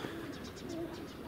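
Mozdok and Leninakan pigeons coo softly in a short, steady murmur amid background noise, with a faint voice nearby.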